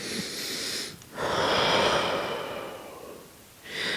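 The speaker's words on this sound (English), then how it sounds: "I'm going to inhale through my nose, exhale through my mouth" A person lying prone in a plank position breathes slowly, drawing air in through the nose and pushing it out through the mouth in long, audible breaths, close and alone, with pauses between.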